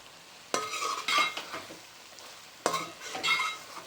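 Okra being stirred in a pan with coriander, giving a few distinct scraping, rustling stirs over a soft sizzle, with a quieter pause between the bursts.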